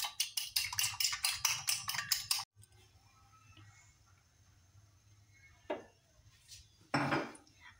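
Eggs with large yolks being beaten in a bowl, a quick run of rhythmic clinking strokes for a couple of seconds, then near quiet with a few faint knocks and handling sounds.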